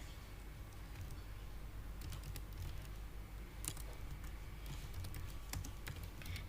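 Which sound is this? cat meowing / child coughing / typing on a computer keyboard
typing on a computer keyboard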